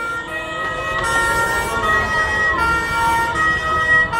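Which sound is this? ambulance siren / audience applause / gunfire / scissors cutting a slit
ambulance siren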